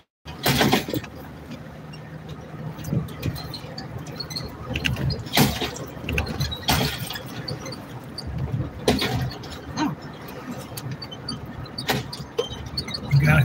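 A Jeep rolling over a bumpy street, heard from inside the cabin as a steady road rumble broken by repeated loud jolts and rattles, with bottles in the back seat clinking on the bumps.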